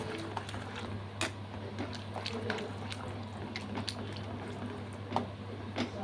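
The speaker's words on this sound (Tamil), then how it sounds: "கிரேவி நல்லா கொதிச்சிருச்சு." Thick bitter gourd gravy for pavakkai thokku bubbling in a pan, with irregular soft pops and blips over a low steady hum, close by.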